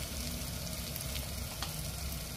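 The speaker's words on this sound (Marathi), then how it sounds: "आता मसाल्याला तेल सुटेपर्यंत भाजून घेऊया।" Chicken masala spices roasting in hot oil give off a soft, continuous sizzle and crackle, faint and steady throughout with no voices.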